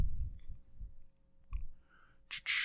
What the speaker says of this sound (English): Forgive me if you can hear my computer clicking.